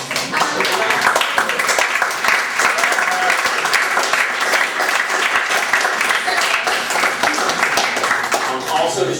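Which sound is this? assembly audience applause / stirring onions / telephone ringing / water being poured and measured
assembly audience applause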